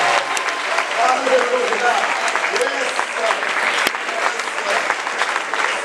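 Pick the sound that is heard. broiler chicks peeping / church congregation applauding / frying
church congregation applauding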